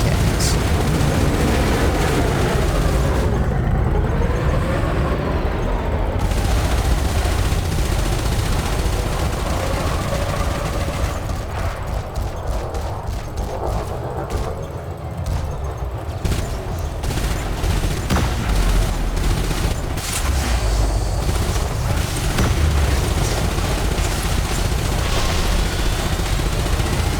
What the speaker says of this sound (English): Now I'm gonna absolutely destroy this guy because I have nothing but multi-cannons.